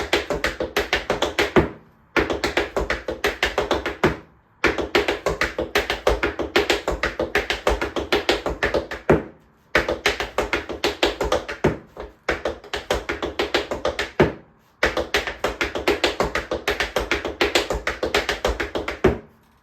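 Rapid tap dance steps in an intermediate rolling riffles combo: loud, crisp metallic taps in quick rolling bursts, grouped into phrases separated by short silent pauses.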